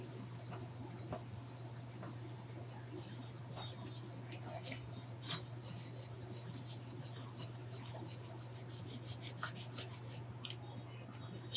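Abrasive rubbing and scrubbing on the oxidized painted housing of a Homelite XL-104 chainsaw, polished with a fine-cut compound: steady close rasping strokes over a constant low hum, growing denser and louder toward the end.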